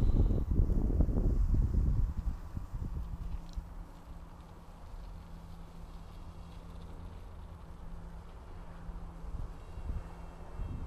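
Wind gusts buffet the microphone outdoors on a windy day during a small drone's range and altitude test: a loud, rumbling burst for about two seconds, then a softer, steady rush with a faint hum.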